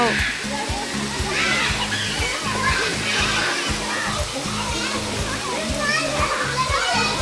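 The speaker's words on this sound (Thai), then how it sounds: "บรรยากาศน้ำตกเจ้า" Rushing, splashing water at a waterfall in Mae Ramat, Tak province, a steady broadband wash with children's voices and adults talking over it throughout.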